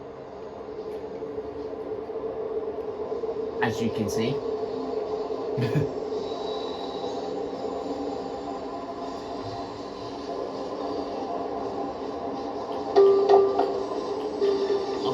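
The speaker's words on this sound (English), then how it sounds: "The train's moving." A train rolls along in Train Sim World 2, a steady low rumble and hum of the moving locomotive with a few sharp clanks and a brief tonal beep, while a person talks briefly over it.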